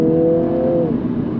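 A 2024 Mini John Cooper Works (F56 LCI 2) accelerating in normal mode, its engine note rising steadily and loud up close, then easing off as the pull settles, with no talking.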